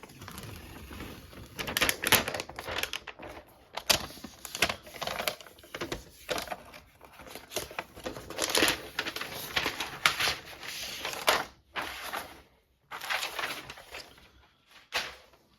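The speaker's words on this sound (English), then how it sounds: "let's open the computer, the paper pull tab" Paper pull tab being torn open on the box of an M5 Pro 14-inch MacBook Pro, a run of close, crisp ripping and crinkling bursts with short pauses between them, and no talking.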